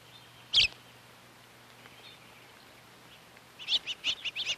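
Small birds chirp at a backyard feeding tray where they are eating apples, one sharp call early, then a quick run of high tweets near the end, faint and close against quiet background hum.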